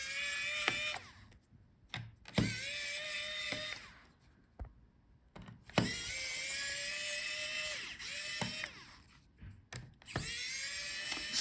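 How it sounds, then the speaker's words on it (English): Screws being backed out of an HP Omen 15 EN0023DX laptop with a powered driver, heard as several separate high whirring bursts of a few seconds each, with short quiet gaps between them and no talking. "So unscrew all the screws."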